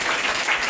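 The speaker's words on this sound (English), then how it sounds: "just another round of applause for Alex." Brief burst of audience applause at a book launch reading, a close, dense wash of clapping lasting under a second.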